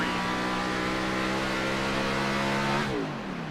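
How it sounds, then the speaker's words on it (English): Race car engine on a New Hampshire oval lifting off the throttle into a turn, a steady loud mid-pitched drone whose tone drops and softens near the end as the revs fall away. "Sounds like he's shutting the engine off and saving fuel right there."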